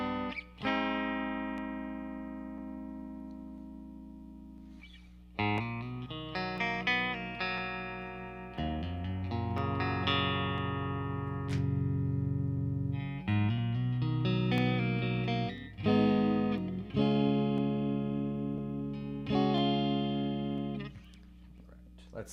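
Electric guitar played through a Marshall DSL40 amp's classic gain green channel, mildly overdriven, sustained chords and single-note phrases ringing out with a warm, slightly gritty tone, no talking.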